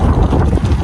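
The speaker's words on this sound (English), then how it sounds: "It's a little windy today." Strong wind buffets the microphone outdoors at an orchard during weed barrier installation, a steady, loud low rumble with gusty fluctuations and no other sounds.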